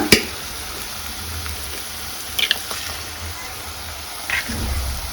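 Onion and masala for egg rice fry in a pan with an even sizzling hiss, broken by a sharp knock at the start and a couple of brief stirring scrapes.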